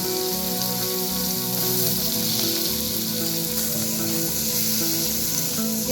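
Fried onions added to a hot pan with garlic and fried potatoes, a dense, even sizzle that holds steady throughout, close and fairly loud, with a low hum beneath and no talking.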